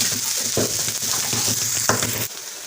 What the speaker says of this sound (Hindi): तो ऑयल हमने पैन में ऐड कर दिया है। इसके अंदर हम प्याज डालेंगे।